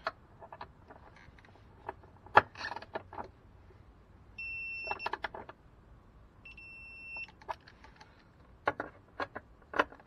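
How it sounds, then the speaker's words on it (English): Ratcheting clicks mix with two sustained electronic beeps as bolts on an Audi A4/S4 B6 are tightened with a torque wrench to 14 foot-pounds, close and fairly quiet with no talk. "tighten it with the torque wrench"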